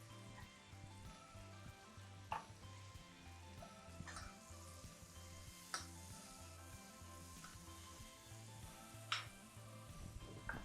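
Cordyceps mushrooms frying in a pan for a pheasant saltimbocca dish, giving a steady low sizzle with occasional sharp crackles and spits, heard alone without talk.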